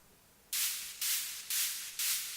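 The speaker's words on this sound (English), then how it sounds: "it's pretty much just white noise directly from Massive" White noise synthesized in Massive, sidechained to a kick, sounds as four evenly spaced loud bright hiss bursts, each swelling in and fading, pumping in steady rhythm with no talk.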